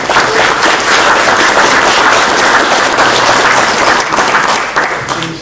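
Loud, continuous applause from an audience at a university event, dense clapping sustained evenly throughout.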